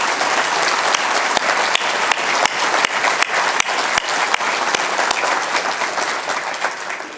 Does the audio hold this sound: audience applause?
yes